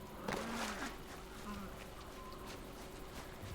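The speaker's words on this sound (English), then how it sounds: "They're more like bee pouches of angry bees." Angry bees buzzing from a thrown bee bomb in the video game Far Cry Primal, a low steady insect drone heard at moderate level with faint game ambience and brief voice-like sounds.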